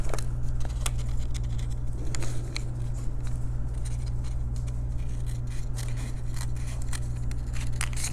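Paper-crafting scissors snip out a paper triangle for a scrapbook layout in a rapid string of crisp, close cuts running steadily over a low constant hum, with no voices.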